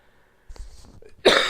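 A man in a game session gives a single sudden, harsh cough close to the microphone after a short quiet stretch with faint rustling.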